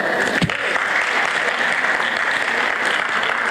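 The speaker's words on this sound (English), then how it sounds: "I want everybody to give these past presidents and BOT members a round of applause." A crowd at a Fort Myers Diwali event applauds past presidents and Board of Trustees members, loud sustained clapping from many hands with one brief sharp knock near the start, no voices.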